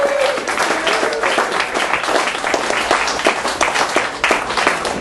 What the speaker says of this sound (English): Keep your applause going for Luciano Iacobelli